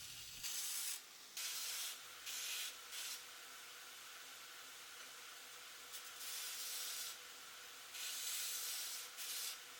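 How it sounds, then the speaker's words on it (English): Knife steel ground on a Braid belt grinder with an adjustable rest, the blade pressed against a running abrasive belt in several separate bursts of loud, hissing, rasping contact over a steady motor whir. "Then I slide this adjustable rest into the lower shoe on my Braid. I use a cheapo electronic angle finder to establish the angle. Then you just grind away."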